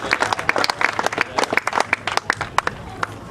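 An indoor audience applauds walleye fishing team champions at the Cabela's National Team Championship on the St. Mary's River, Sault Ste. Marie: dense, steady clapping from many hands over about three seconds, fairly close.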